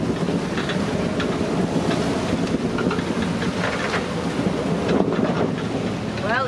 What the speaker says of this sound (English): I guess we hit some wind.